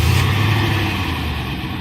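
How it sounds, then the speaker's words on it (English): A 2017 Nissan Titan XD SL 4x4 pickup rumbles steadily and loudly close by after a remote start, a deep continuous idle with no talk over it. "Now, another thing the Titan has, remote starter. Let's get this bad boy started up."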